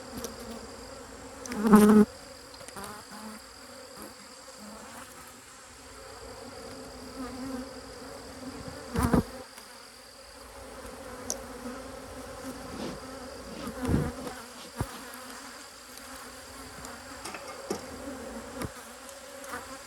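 Honeybees hum in a dense, continuous drone around an open beehive at an apiary, with occasional louder individual bees passing close and a few sharp handling knocks.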